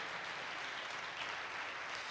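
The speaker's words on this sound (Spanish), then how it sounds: "Dale un aplauso al Señor." A church congregation applauds for the Lord, producing steady, dense applause that runs throughout at a moderate distance and fairly low level, with no speech over it.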